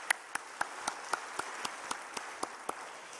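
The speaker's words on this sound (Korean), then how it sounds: "하나님께 감사 영광의 박수 돌려주십시다." A church congregation applauds during Sunday worship, with a soft wash of many hands under a rhythmic pattern of distinct, evenly spaced claps.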